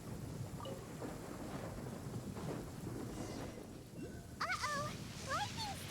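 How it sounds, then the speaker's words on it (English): Thunder rumbles under rain in a Genshin Impact lightning storm, a steady low roll of storm noise with game character voices chattering briefly over it near the end. "Uh-oh! Lightning storm!"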